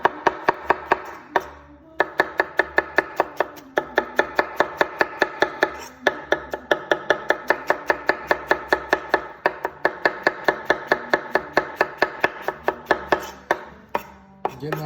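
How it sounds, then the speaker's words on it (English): A sharp knife rapidly chopping onion and other salsa ingredients very fine on a board, dense rhythmic close-up knocks in quick bursts with brief pauses between runs. "So now I can just chop this up super fine."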